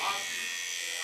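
A Mummy Anubis tattoo machine with a fault hums close by, giving a steady, even buzz with a rough, abnormal edge and no break across the short stretch.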